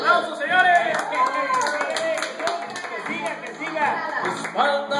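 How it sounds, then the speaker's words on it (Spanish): Audience clapping in a lively, fluctuating burst while singing or shouting voices carry over the top, the hand claps forming a busy rhythmic patter beneath the louder vocal sound. "Esos aplausos, señores."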